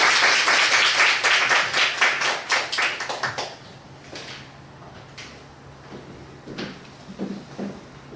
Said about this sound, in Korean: 우리 큰 박수로 목사님 맞이할 수 있도록 하겠습니다